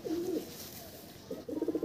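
Domestic pigeons in a loft give two soft, throaty coos, one at the start and another near the end, quiet and close.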